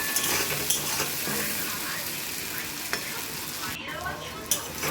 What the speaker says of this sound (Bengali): একটু লাল লাল করে আলুটা ভাজা হবে।